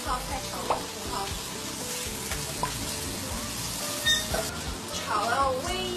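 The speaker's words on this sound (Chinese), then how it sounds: "再放那个泡菜炒了" Kimchi is stir-fried with pork in rendered lard, giving a steady sizzle with scraping and stirring clatter and a few bright clinks, while voices murmur faintly in the background.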